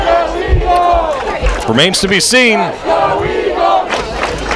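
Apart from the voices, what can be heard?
football game crowd cheering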